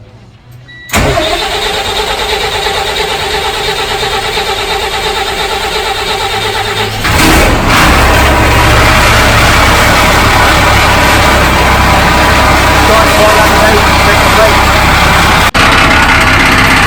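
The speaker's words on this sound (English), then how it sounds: "We're just about to start it for the first time." A Volkswagen Kombi van engine, started for the first time after a build, cranks and catches after a moment, then idles loudly and steadily, settling into a rougher, deeper running note.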